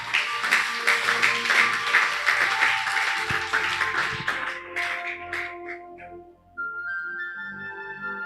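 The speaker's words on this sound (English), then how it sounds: "Did you clap for what I just said?" A church congregation claps loudly and steadily for several seconds, then the applause thins out and fades, and sustained keyboard or organ tones take over.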